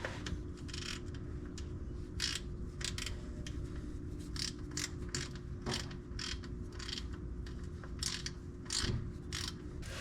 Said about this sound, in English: We will put our fill plug back in and snug it up.